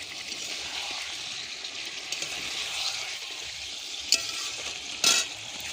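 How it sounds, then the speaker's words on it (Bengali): Eggs, cauliflower and potato are being stir-fried in spices in a karai, giving a steady soft sizzle with a couple of sharp scraping clicks from the spatula near the end and no talking. "এখন ডিমগুলো ফুলকপি দিয়ে ভালো করে কষিয়ে নেব"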